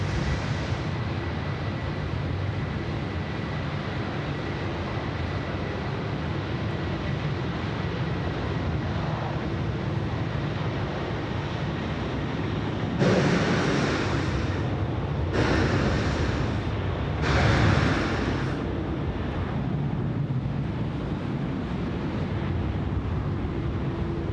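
Malaysia Airlines jet taking off from runway 16 right at Sydney Airport, a steady broad roar of engine thrust rumbling at a distance, with wind buffeting the microphone and a few louder gusts partway through.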